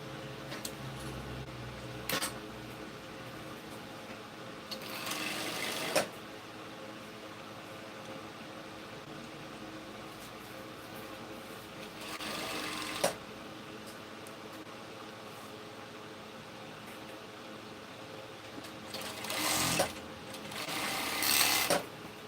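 Sewing machine stitching a finishing seam along both side seams of a crop top, in several separate bursts of rapid whirring stitches between quiet pauses, close and moderately loud over faint background hum.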